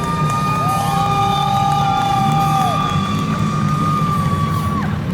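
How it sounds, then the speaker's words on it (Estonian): Crowd at a Saaremaa Rally 2023 event cheering, whooping and shouting steadily at close range, a dense sustained roar of many voices with a few high whistles and yells rising above it. "Teeme aplausi."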